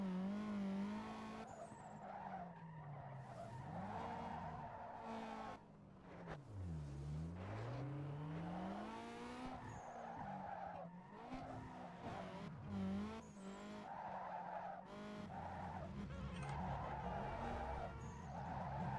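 Tires skid and squeal as a car drifts in an old racing video game, with engine revving throughout, a long continuous screech rising and falling in pitch over the steady motor noise.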